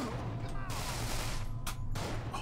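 Gunshots in the video game Manhunt 2, a rapid burst of sharp cracks over a loud, noisy game background, with a few louder shots standing out near the end.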